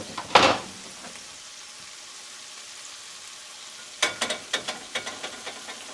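Anchovies, capers and Kalamata olives are stirred in a frying pan with shallot and garlic for pasta puttanesca: a sharp clatter at the start, a soft sizzle, then a series of rhythmic scraping stirs.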